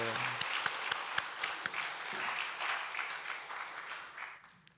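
A congregation at a Sunday service in a Methodist church applauds in a warm, sustained ripple of many hands that fades out toward the end, with a few sharper claps and a voice faintly under it.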